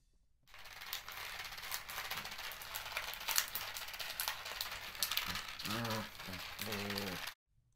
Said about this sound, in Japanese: くしゃくしゃするおもちゃで遊んでいる音でした